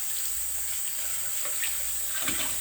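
A bowl is washed by hand in hot soapy water with bar dish soap, producing continuous splashing and swishing with a few louder sloshes, close and steady throughout.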